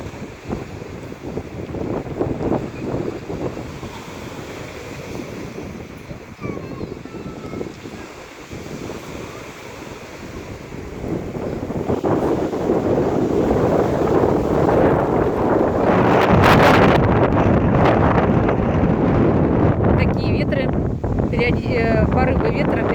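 Gusty wind blows on a warm September beach at Gelendzhik by the sea, buffeting the microphone in rough, uneven bursts that grow stronger midway, with surf faintly beneath and a voice talking over it.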